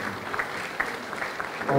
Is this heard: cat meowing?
no